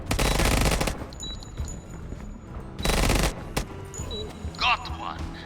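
M16 rifle fire in Door Kickers 2 comes in two loud, close bursts of rapid automatic shots about two seconds apart, with game sound effects and a brief voice between them.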